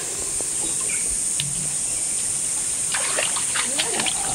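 Water runs and splashes at a village spring used for drinking, with steady insect or bird hum behind it and a burst of nearer splashing toward the end.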